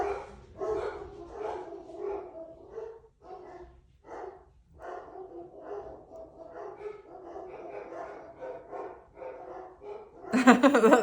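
Dogs bark repeatedly indoors in a run of medium-loud barks and yips, ending with a sharper, louder burst.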